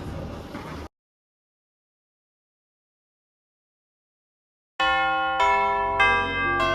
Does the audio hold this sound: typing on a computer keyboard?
no